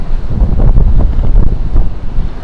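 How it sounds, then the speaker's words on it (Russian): Rough sea at Nha Trang beach on a cool, overcast day, with loud gusting wind buffeting the microphone and a deep rumbling surge of surf underneath, continuous and close with no voices. "Волнение в море, как вы видите сами, очень большое."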